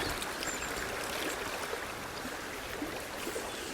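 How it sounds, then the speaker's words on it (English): Fast, choppy river water rushing steadily over a grayling pool in winter, a dense continuous broadband wash at close range with no talking. "It's getting quite choppy, the water here"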